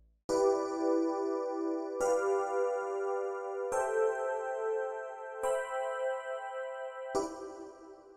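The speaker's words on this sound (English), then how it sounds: "This should make a 7th chord for each and every single one of these." Jazzy R&B-flavored seventh chords on a keyboard, five sustained chords played one after another at an even pace, each ringing warmly and alone without voices.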